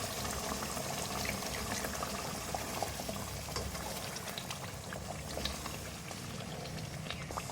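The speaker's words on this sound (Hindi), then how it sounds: "1/4 कप में और पानी डालूंगी इसमें।" Water pours and splashes steadily into a cooking pot of chicken korma for several seconds, a constant close hiss with small bubbling pops and no one speaking.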